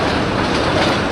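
Trains roll along rails in the railway-building video game Rule the Rail, a loud, continuous rumble with a faint rhythmic clatter.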